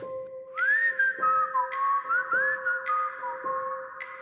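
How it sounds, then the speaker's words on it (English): Someone whistles an old-timey melody, a clear sliding tune in short phrases over a steady low electronic hum, with soft rhythmic thumps marking the beat and no talking. "I definitely can hear somebody whistling a song."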